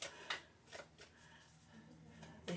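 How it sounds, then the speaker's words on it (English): A deck of tarot cards being shuffled by hand, with soft papery riffles and sharper snaps at irregular intervals, close and quiet in an otherwise still room. "But I am shuffling."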